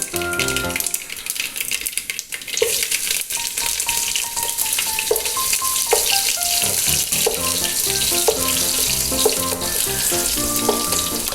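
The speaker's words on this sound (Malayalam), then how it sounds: "അതിലേക്ക് കുറച്ച് കറിവേപ്പില ഇട്ട് കൊടുക്കുക" Curry leaves crackle in hot coconut oil with a loud, continuous sizzle and spatter in a Kerala-style turkey roast preparation, close up with occasional stirring and background music underneath.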